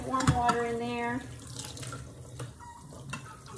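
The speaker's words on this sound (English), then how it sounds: "Let's get your warm water in there." Warm tap water runs into a Yorkie's bath, a steady close stream of splashing, with a voice speaking briefly at the start.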